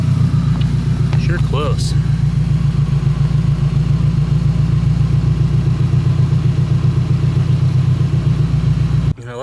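A turbocharged Nissan S14 Silvia idles steadily in a driveway while reversing, a loud, even low rumble that runs throughout, with a person talking over it near the start.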